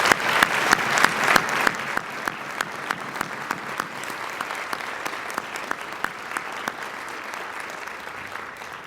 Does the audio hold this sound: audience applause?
yes